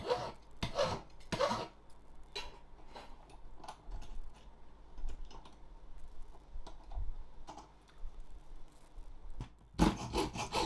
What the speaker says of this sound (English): And filing it flat.